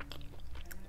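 Someone takes a first bite of chicken kofta curry with basmati rice, with soft, close, continuous chewing and small wet crunches over about a second and no talking.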